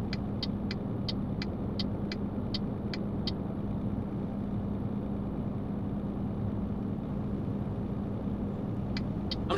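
Steady low truck engine drone in Euro Truck Simulator 2 on a drive toward Duisburg, constant and fairly loud, with a series of short high ticks early on and again near the end.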